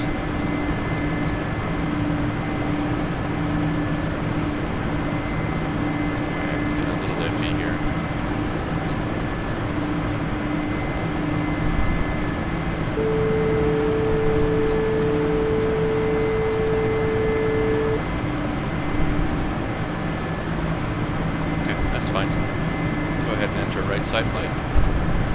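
A Mi-24P helicopter flies sideways in the DCS flight simulator, giving a steady, loud droning engine and rotor hum that holds unchanged for the whole stretch, with only a few faint clicks on top.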